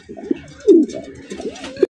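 Racer pigeons for sale, including a black Kuskusa pair, coo in several close, throaty bursts that rise and fall, the loudest swell near the middle and another at the end, with no talking over them.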